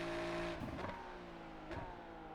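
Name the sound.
Ferrari 296 Challenge engine at Sebring, from a video game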